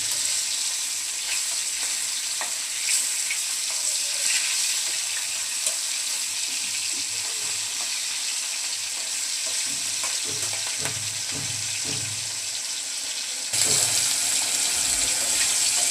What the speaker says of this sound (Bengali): ইলিশ মাছ হালকা করে ভাজতে হয়।